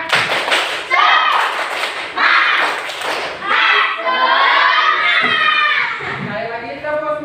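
Classroom children perform a rhythmic clapping chant together, bursts of sharp group claps and thuds alternating with loud chanted voices in a lively, patterned sequence.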